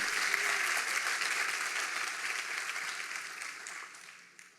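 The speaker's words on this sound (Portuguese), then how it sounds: "Se você crê, aplauda ao Senhor e celebre a Ele." A congregation applauds during a church worship service, a steady dense wash of clapping that holds loud and even and then tapers slightly at the close.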